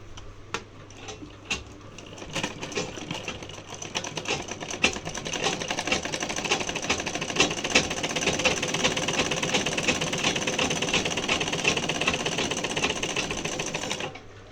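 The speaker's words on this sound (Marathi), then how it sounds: "तर आपण खालच्या बाजूला आपण एक टीप मारून घेऊया." A sewing machine stitches a blouse sleeve joint with goat piping, a steady fast mechanical whirring and ticking that runs loud and close throughout, with some lighter clicks at the start.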